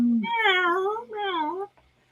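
A person's voice imitating a cat gives two drawn-out, wavering meows back to back, close and clear, with a short gap between them and quiet after.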